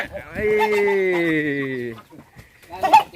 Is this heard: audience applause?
no